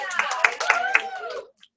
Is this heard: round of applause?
yes